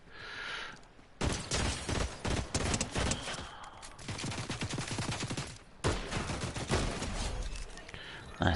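Rapid, loud bursts of gunfire crackle through a Fortnite match, firing in dense volleys separated by short pauses, close and sharp throughout.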